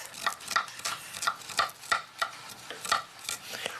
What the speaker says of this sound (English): Now I trimmed the cheese, and I'm going to cut it into a slice like this.